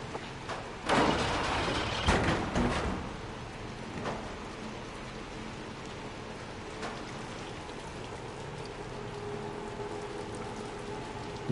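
Steady rain pattering in the video game Little Nightmares II, a constant hiss with a few louder knocks and scrapes early on, then an even wash of falling drops.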